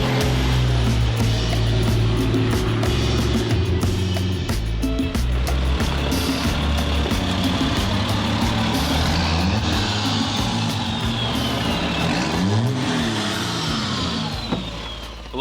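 A Ford F350 truck with a swapped CAT 3126 diesel engine of 190 horsepower drives along, its low diesel drone rising and falling through gear changes with steady road noise, loud and close from inside the cab.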